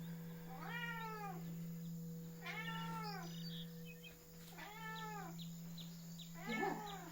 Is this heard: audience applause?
no